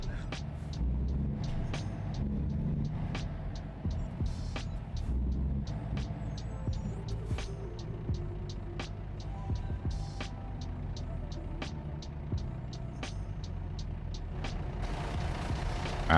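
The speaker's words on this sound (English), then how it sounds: "Wow, there's a lot of traffic here." Road traffic in the American Truck Simulator game rumbles continuously, a low engine drone with passing vehicle swells, under quiet background talk and a repeating clicking tick.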